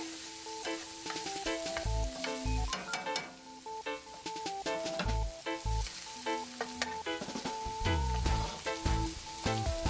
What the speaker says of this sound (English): now I'm going to drop in my minced shallots and chopped garlic, and also my grape tomatoes